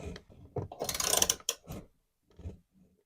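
A 3/4-inch socket wrench ratchets close up while tightening a bolt on a cheap lawnmower. It gives bursts of quick mechanical clicking with short pauses between strokes.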